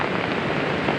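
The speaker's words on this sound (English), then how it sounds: "It's raining." Rain falls heavily at a solo wilderness bushcraft campsite during wind and rain warnings, a dense, steady hiss that continues without a break.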